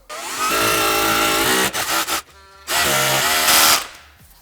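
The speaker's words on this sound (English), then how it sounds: "We're just going to drill exactly where that line was" A power drill whines loudly drilling into a flaky wall in two long bursts with brief stutters and a pause between, close up, no talking.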